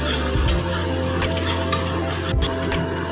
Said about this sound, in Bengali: এবার আমি এখানে আদা দিয়ে আদাটাকে ভালো করে একটু ভেজে নেব যতক্ষণ না কাঁচা গন্ধ যাচ্ছে